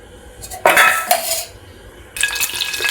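Metal utensils clink and scrape sharply against a frying pan as cooking oil heats for a paneer and spinach dish, a few bright bursts separated by quieter gaps, with no talking.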